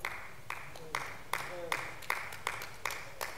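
A few people in a church clapping in a slow, sparse rhythm, about nine distinct claps spaced roughly evenly and fairly faint, with a brief voice in between.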